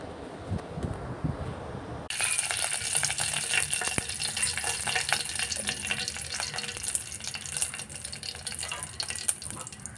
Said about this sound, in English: add 1 teaspoon of mustard seeds and let it crack